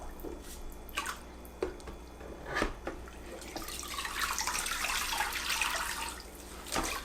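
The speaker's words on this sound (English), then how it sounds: "Put the mop in the water." A microfiber spin mop is dipped into a bucket of water and vinegar, first with scattered knocks and drips, then a sustained sloshing, splashing wash that fills the second half.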